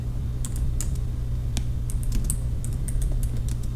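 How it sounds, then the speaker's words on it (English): Typing on a computer keyboard: a steady run of crisp, close key clicks at an uneven pace over a low constant hum, with no talking. "So we are going to type write"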